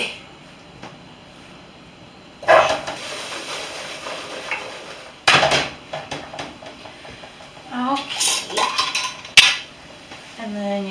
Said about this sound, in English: And we're going to throw in our veggies.